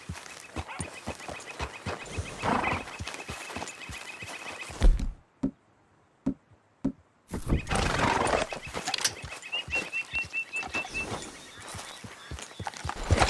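A horse in Red Dead Redemption 2 galloping with rapid, rhythmic hoofbeats and loud whinnies, the hooves pausing briefly into a few slow steps before the gallop resumes.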